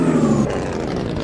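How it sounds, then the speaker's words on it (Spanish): A loud truck engine in American Truck Simulator runs with a throaty tonal rumble, then breaks into a rougher, broadband roar partway through the short burst. No one speaks. "ese carro suena demasiado duro"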